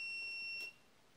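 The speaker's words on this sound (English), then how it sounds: "if you pick it up, the alarm goes off, which means you have to do a reset." Anti-theft alarm on an AGDA 110-watt electric monocycle sounds as a steady, shrill electronic tone that holds for about two-thirds of a second and then cuts off, leaving quiet background.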